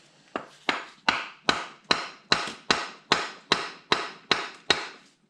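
A hammer taps the end of a John Deere 318 Onan B43G engine to drive a plate off, about thirteen sharp, evenly spaced metallic blows close by, with nothing else heard.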